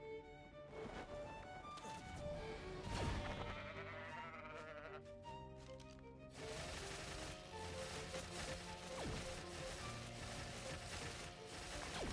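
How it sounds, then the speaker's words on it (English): Sheep bleat repeatedly in a PvP video game, short nasal calls mixed with mechanical ratcheting and gear-like game sounds, no talk. "It's like a sheep."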